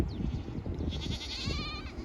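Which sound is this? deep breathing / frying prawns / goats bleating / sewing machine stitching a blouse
goats bleating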